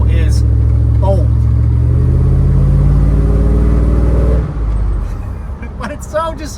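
An older truck with long tube headers and a custom exhaust dumped at the rear axle rumbles loudly and steadily at close range, its deep idle note drifting in pitch before dropping off sharply, with brief talk at the start and end.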